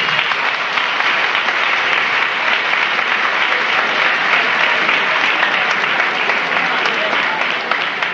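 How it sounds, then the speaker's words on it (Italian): Audience applause at a 1979 televised dance show, a dense, steady wash of clapping from a crowd that stays loud and even throughout, with no voices breaking through. "direi di fare un applauso a tutti quanti"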